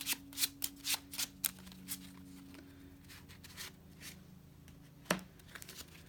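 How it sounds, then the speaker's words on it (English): A deck of cards being shuffled during a tabletop game, with a quick run of crisp riffling bursts followed by softer, scattered card sounds, quiet and close with no talking. "which means it's time to shuffle"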